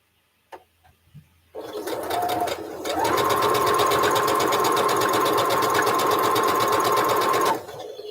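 A sewing machine sews along the side of a line, running in one loud, continuous stretch for about six seconds with a steady mechanical whir and a humming tone before stopping.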